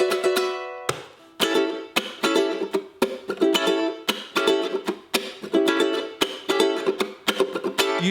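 A ukulele plays a quick snippet of a song, with a single opening strum followed by a steady run of crisp, rhythmic chord strums, close and alone with no singing.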